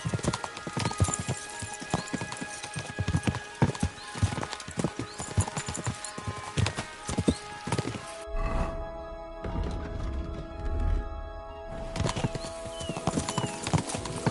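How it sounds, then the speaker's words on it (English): Several horses gallop in a steady clip-clop of hooves, loud and close, with a whinny and a heavy thudding stretch partway through, during a wartime escape on horseback. "We should spur the horses on."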